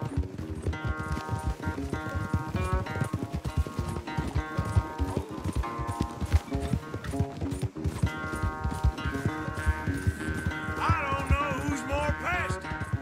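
Rapid, steady hoofbeats of a galloping horse in the video game Red Dead Redemption 2 drum throughout, with a musical score playing underneath.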